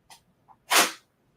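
A single sharp sneeze bursts out close to the microphone, preceded by two small quick intakes of breath, then silence.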